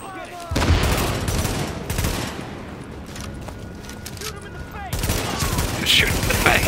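Gunfire in The Division video game, with bursts of shots and rapid firing through most of the stretch, heard alongside game sound and other noise.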